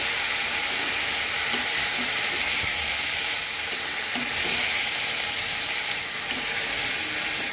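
Water splashes into a pan of sautéed drumsticks and mustard paste, setting off a loud, continuous hissing sizzle that stays close and steady throughout.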